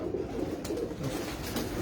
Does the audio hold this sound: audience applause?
no